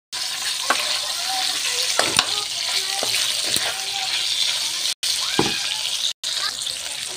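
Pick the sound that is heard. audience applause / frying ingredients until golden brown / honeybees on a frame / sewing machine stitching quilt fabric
frying ingredients until golden brown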